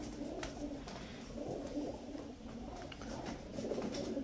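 Racing pigeon cooing repeatedly in soft low rhythmic calls close by, with faint room noise and no voices.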